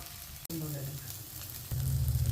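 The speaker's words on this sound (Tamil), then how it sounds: "இப்போ கிறிஸ்பியான கோதுமை தோசை நாம் இப்போ ஊற்றிருக்கோம் வேகட்டும் பாருங்கள்" Crispy wheat dosa batter sizzling on a hot pan, a soft steady hiss close by that swells louder in the final second, with a brief click near the start.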